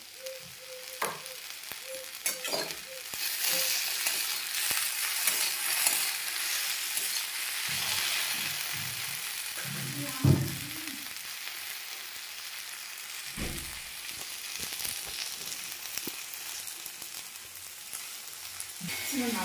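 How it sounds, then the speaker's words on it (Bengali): Okra fries in a pan in a home kitchen, giving off a constant close sizzle. Intermittent knocks and scraping from stirring break through the hiss, and no one speaks. "আর এদিকে ভেন্ডি ভাজা হচ্ছে, সব বসানো হয়ে গেছে।"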